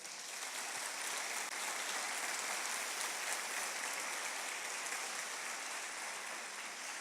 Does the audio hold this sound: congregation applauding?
yes